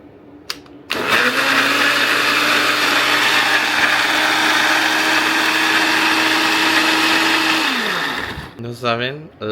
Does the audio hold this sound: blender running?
yes